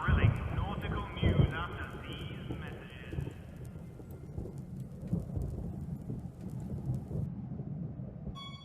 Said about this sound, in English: Reports are saying a huge storm is blowing in.